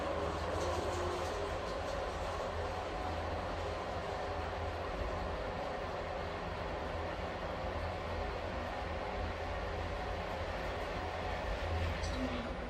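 Otis Gen2 lift car at night in a Copenhagen hotel, rattling and rumbling steadily as it travels, a continuous low hum with faint clicks and no voices.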